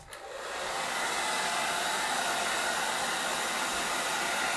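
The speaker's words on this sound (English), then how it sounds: "I'm actually going to help it along by grabbing my hairdryer." A hairdryer blowing steadily on chalk paste spread over a silk screen, a close, even whoosh of air that rises quickly and then holds constant.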